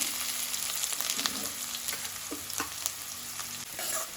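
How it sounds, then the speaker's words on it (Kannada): Onions fry in hot oil in a pan, a dense steady sizzle with occasional stirring scrapes and pops, close and continuous with no talk. "ಈರುಳ್ಳಿಯನ್ನು ಹಸಿ ವಾಸನೆ ಹೋಗೋ ತನಕ ಸ್ವಲ್ಪ ಫ್ರೈ ಮಾಡ್ಕೊಳ್ಬೇಕು"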